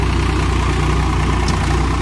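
A Swaraj 744 XT tractor engine idles at low RPM, around 1000 to 1200, producing a loud, close, steady diesel throb with an even rhythmic pulse and no breaks.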